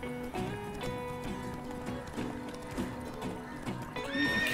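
Horse hooves clip-clop in a quick galloping rhythm while a horse neighs in the video game The Witcher 3, with a game-like musical backdrop and a brief voice.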